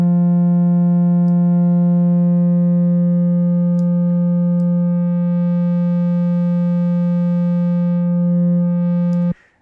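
A loud, steady buzzing tone rich in overtones, a sine wave from a sampler run through distortion, holds for about nine seconds, then cuts off abruptly.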